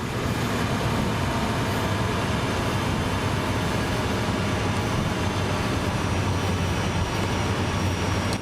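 A CSX C48W diesel locomotive in Train Sim World 5, throttled on a hill, gives a steady loud engine drone and rumble with no breaks.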